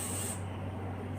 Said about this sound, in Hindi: स्प्रे करूंगी,